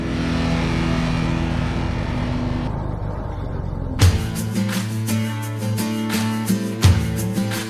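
A Unimog off-road truck on a dirt trail revs its engine, first a steady drone, then sharper surges and shifts with rising and falling pitch as it drives past up close.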